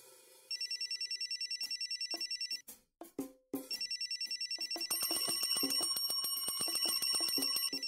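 An electronic phone-style bell rings in a home in a Marathi TV serial: fast trilling bursts, a short pause with a few knocks or clicks, then the ringing resumes louder and continuous.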